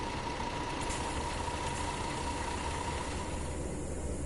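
A tour bus engine idles with the doors open in the game Tourist Bus Simulator, a steady low drone with a faint hum above it, continuous and moderately quiet.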